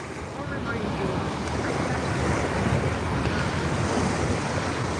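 Ocean surf rolls onto a Marco Island beach at sunset with strong wind buffeting the microphone, a continuous loud wash with no gaps.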